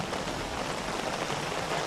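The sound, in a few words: rain falling at night in the jungle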